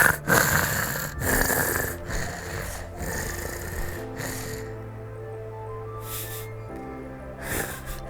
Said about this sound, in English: Do we get to like hear the ghost breathing?